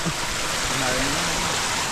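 Water rushes steadily through an irrigation channel feeding a rice paddy, a loud, continuous hiss and gush that fills the whole short stretch, with possible faint voices underneath.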